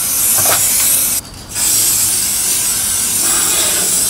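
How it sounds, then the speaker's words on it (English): Protective spray hissing steadily from an aerosol onto window cleaning pole sections, loud and close, with a brief pause partway through before the spray resumes. "so all I need to do now is spray them."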